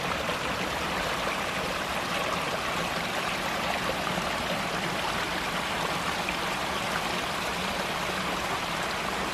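Steady broadband rush of water flowing in a stream, continuous and fairly close with no break or change over the whole stretch, and no voices.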